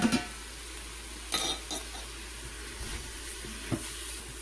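Onions and spices cook gently in an open pressure cooker, giving a low steady sizzle with a few soft stirring scrapes and utensil taps, heard close and alone.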